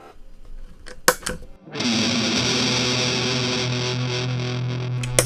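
Electric guitar chained through chorus, reverb and fuzz pedals into an amp: a couple of sharp plucked notes, then a sustained, thick, distorted chord ringing loud and steady for several seconds.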